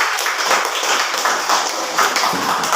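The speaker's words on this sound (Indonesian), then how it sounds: "sekali beri aplaus buat kami" Classroom audience applause, a steady patter of many hands clapping, close and fairly loud for a few seconds.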